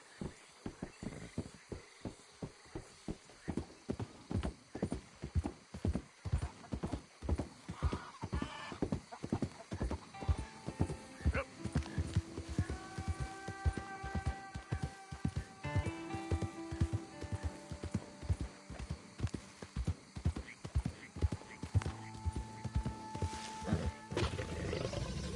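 Horse hooves in the video game Red Dead Redemption 2: a steady, close clip-clop rhythm running throughout, with occasional tonal animal cries and game sounds layered over it.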